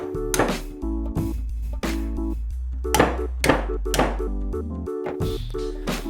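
Heavy hammer blows bashing a piece of metal into shape for a RAM X-Grip mount, several loud thunking strikes at an irregular pace over a low steady hum.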